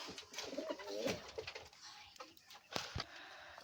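Sirajee, desi and king pigeons in a loft give soft, low cooing calls with a few quick flutters and clicks, faint and close by, with no talk.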